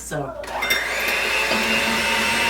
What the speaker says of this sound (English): I'm gonna mix these really well until they're kind of fluffy